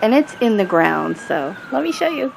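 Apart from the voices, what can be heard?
emergency vehicle sirens passing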